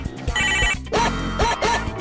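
A fake prop telephone ringing in a comedy sketch, with a few quick bursts of bright, warbling electronic ringing close by and no talking.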